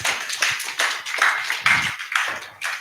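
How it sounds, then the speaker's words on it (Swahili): Audience applause at an event in Kenya, a burst of hand claps with uneven rhythm, fairly close and moderately loud, rising and falling in waves across a few seconds. "Pigeni makofi"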